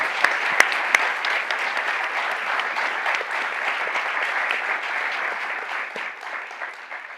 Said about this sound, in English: Can we please have a round of applause for your